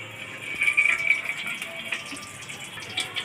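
Cooking oil poured into a dry, heated kadai, a steady liquid stream heard up close for about three seconds with no talking.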